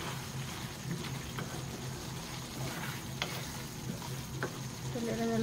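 Food frying in a pan with broth and fish sauce, a soft continuous sizzle and crackle with occasional brief pops and stirring scrapes, fairly quiet and close.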